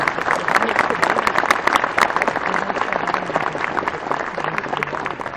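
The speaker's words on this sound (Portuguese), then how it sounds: "Queria uma salva de palmas para essa galera que trabalha bastante aí." Keynote audience at a Java developer conference applauding, a loud, sustained crowd clapping with sharp individual claps throughout, filling the hall for over five seconds.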